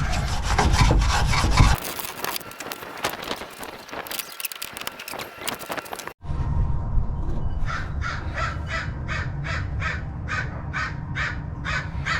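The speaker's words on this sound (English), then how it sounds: "Trying to wire brush the top off of this one." A wire brush scrapes the top of a shock absorber on a 2003 Ford Lightning pickup: several seconds of loud, dense scrubbing, a short break, then a steady run of quick, evenly spaced rasping strokes close to the mic.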